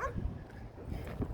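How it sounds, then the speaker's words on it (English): Guard dogs bark and yip at a passerby on a sidewalk in Rio Grande City, Texas, a few short faint barks heard from some distance. "I got these dogs barking at me."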